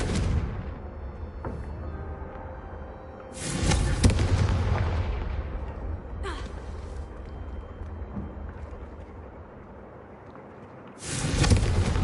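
Confringo fire spells in Hogwarts Legacy burst against candelabras as booming blasts, one near the start, another around the middle and a loud one at the end, over a steady low game rumble.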